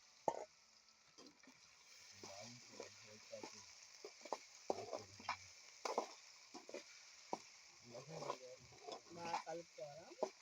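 Potatoes and curry leaves fry in a pan with a low, steady sizzle. Frequent close scrapes, knocks and stirring clatter come in irregular bursts and grow busier toward the end.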